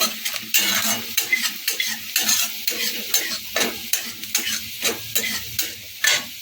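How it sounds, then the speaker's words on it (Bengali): A spoon scrapes and stirs cauliflower florets frying in oil in a pan, a repeated rhythmic series of clattering strokes over a steady sizzle, close and fairly loud, with no talking. "আমি দু চারবার নাড়া দিয়ে নেবো"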